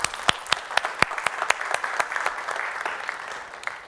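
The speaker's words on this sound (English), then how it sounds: "One more big round of applause for Hilda Clune," Audience applause for a speaker at a Google Cloud Next '18 conference session: a hall of steady clapping with sharp individual claps standing out, starting strong and fading gradually toward the end.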